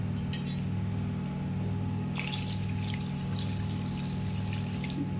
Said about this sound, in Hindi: दो गिलास पानी डालें